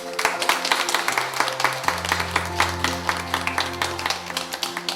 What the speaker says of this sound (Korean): 우리 선생님께 박수 한번 보내주면 좋겠습니다.